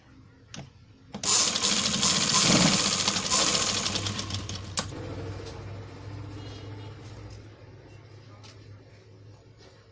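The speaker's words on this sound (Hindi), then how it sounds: "और दोबारा से फिर से सिलाई लगा लेते हैं।" A sewing machine stitching palazzo pants fabric runs in a loud, fast mechanical burst for about four seconds, then fades into a lower hum with faint clicks and background noise.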